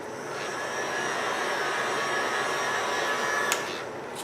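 A burlap flower cut with a die is softened under a heat gun, its steady loud blowing whoosh running evenly throughout with no voices.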